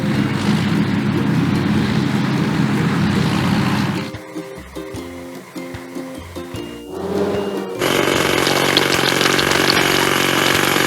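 Hydraulic hammer breaking rocks in a kids' truck video game: a loud, rough mechanical rattle, then a quieter stretch of tonal game sounds, then the heavy hammering noise returns, close and with no talk.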